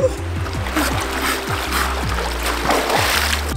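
Someone dunks into a freezing river at a free camping spot in Victoria, making continuous close splashing and churning water, with a faint voice-like tone running underneath.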